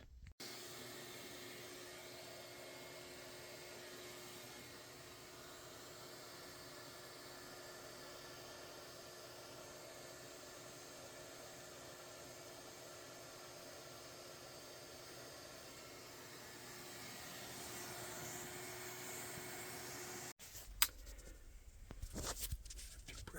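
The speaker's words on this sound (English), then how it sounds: "let's vacuum this off" A vacuum cleaner runs steadily while cleaning a Goodman HVAC unit, giving a constant broadband whoosh with a faint tonal hum for about twenty seconds, then stopping into a few scattered clicks and knocks.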